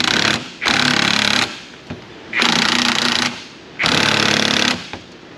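Three loud bursts of an impact power tool rattle as it tightens nylock nuts on a Ford Mustang GT front strut, each hammering burst about a second long with short gaps between, close.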